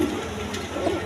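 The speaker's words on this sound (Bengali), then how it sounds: "এটা হলো দামাচি কবুতর" A Damachi pigeon, a fancy breed on sale at a pigeon seller's, gives a short, low, throaty coo close by against steady background noise.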